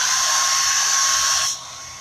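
A dryer blowing over chalk paint gives a steady high whine and whoosh that cuts off abruptly near the end, leaving quiet room tone.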